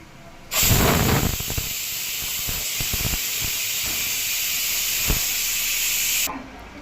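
Mutton ukad soup steaming in a pot gives off a loud, steady hiss close by that starts abruptly and runs for several seconds before cutting off.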